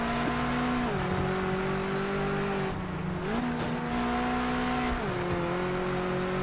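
A race car engine in the Project Motor Racing 2.0 video game drones steadily and loudly with no talk over it, its pitch stepping up and down through gear changes at a constant close distance.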